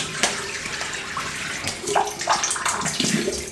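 Water from a tap splashes steadily as a razor is rinsed under it, a close, hissing stream with small bursts of splashing as the blade moves through it.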